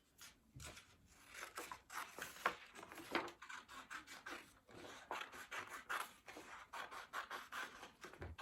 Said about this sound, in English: So I'll cut these 2 strips out.